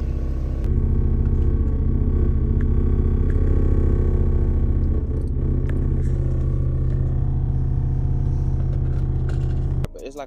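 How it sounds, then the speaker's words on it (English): A Chevrolet Camaro idles with a steady low rumble, up close and loud, a rattling buzz riding on the engine hum before it cuts off near the end. "it's like a noise where it sounds like something is rattling. I hate it, bro. When you just, and it only happens when you're idling."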